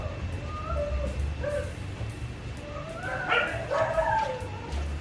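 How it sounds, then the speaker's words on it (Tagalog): A rain-soaked dog whimpers and whines in high, wavering cries, with a few short yips, over a steady low background rumble. "Umiiyak yung aso dahil naulanan."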